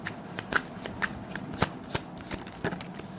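Tarot cards are shuffled by hand in a quiet room, giving a run of light riffling flutters and sharp card snaps spread evenly over a few seconds, near and fairly soft.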